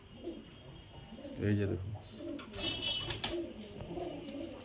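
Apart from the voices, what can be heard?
high flyer pigeons cooing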